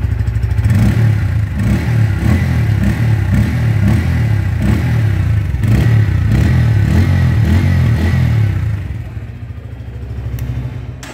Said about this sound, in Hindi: P150 का एग्जॉस्ट साउंड कैसा है, एक बार एग्जॉस्ट साउंड सुनो उसका